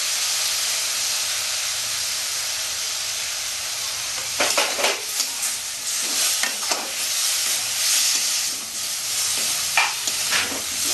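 Potatoes frying in a pan with salt and turmeric, a steady hiss and sizzle with intermittent stirring scrapes, close and fairly loud.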